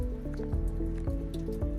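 Heavy monsoon rain at Malang Gad in Maharashtra, heard from shelter under a rock, drips and splashes close by in quick, irregular plops and wet squishes, with no talking.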